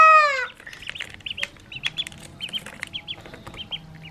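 A chicken gives a drawn-out call, then keeps up a string of short, repeated clucks close by.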